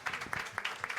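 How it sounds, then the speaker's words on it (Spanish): Applause from an audience at a live Spanish cultural variety show, a short burst of scattered clapping with a few sharper individual claps, moderately loud and without speech. "Un aplauso, se baja."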